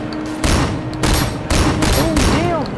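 Rapid bursts of gunfire crack and boom in the video game Sleeping Dogs, loud and close, arriving in several clustered volleys across a few seconds.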